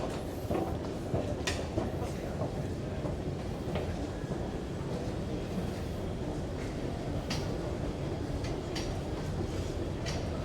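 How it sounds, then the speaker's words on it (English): A red line metro train rumbles steadily with a low, continuous roar at an underground platform in T-Centralen station, Stockholm, punctuated by occasional metallic clicks and squeals. "Southbound red line train on the left"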